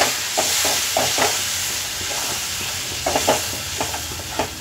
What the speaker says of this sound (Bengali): এবার সামান্য একটু জল দিয়ে দেবো